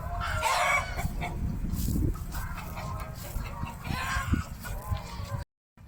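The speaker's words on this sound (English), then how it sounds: "dinner for the chicken is very noisy" Chickens on a sheep farm squawk and cluck noisily at feeding time, a busy overlapping flock chatter with sharper crowing-like bursts, fairly close, with no talk over it.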